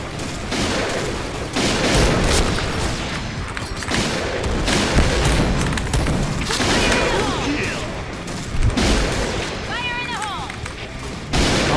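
Rapid pistol shots and booming grenade explosions from a shooter video game, dense bursts of gunfire repeating throughout at a loud, steady level, with a voice talking over the action.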